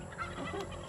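A turkey on a farm field where string beans are harvested gives a short, nasal gobbling call, close and clear, heard alone for about a second.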